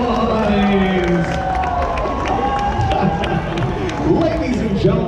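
Fair audience at an Orange County Fair magic show cheering, shouting and making loud sustained noise, a dense continuous crowd roar with scattered whoops and voices throughout.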